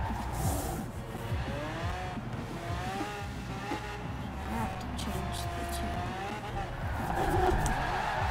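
Dodge Charger R/T being drifted in the Forza Horizon racing game, its engine note holding a steady drone with rising and falling pitch sweeps and tire squeal throughout, moderately loud.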